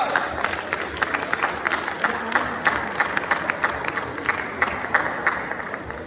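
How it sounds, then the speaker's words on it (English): An award-ceremony audience at a fintech forum applauds a startup team on stage, with scattered individual claps standing out over a continuous wash of clapping and some crowd noise. "Give them a very big round of applause, Team Khadra."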